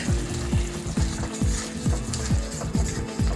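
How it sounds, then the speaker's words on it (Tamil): Thick dhaba-style paneer masala gravy bubbling in a pan, low plopping bursts repeating about every half second, close up with no talking. "கிரேவி நல்லா கொதிச்சு வருதுங்க."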